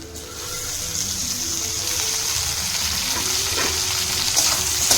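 Chopped tomato sizzling in a pan with softened onions while cooking Bengali rui fish curry, a steady close frying hiss with faint stirring clicks and a low background hum, growing slightly louder.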